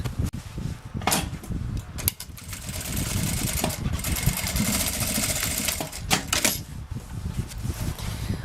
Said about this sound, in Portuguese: E vou passar uma costura reta aqui, ó